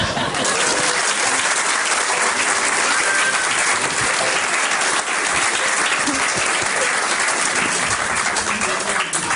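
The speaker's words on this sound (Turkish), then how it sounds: "budur alkış" A studio audience at a comedy sketch show breaks into loud, sustained applause that fills the whole stretch, a thick, constant roar of clapping.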